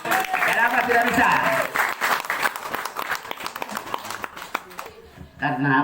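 An audience at the dedication of a Christian kindergarten building in Nabire, Papua, claps in a brief burst that tapers off, with a voice talking over and after it.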